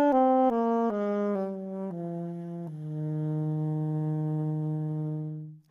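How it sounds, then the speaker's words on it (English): A saxophone plays fuzzy, airy subtone notes in its low register, stepping down through several short notes and ending on one long sustained note that fades, solo and close. "subtone low register or fuzzy low register"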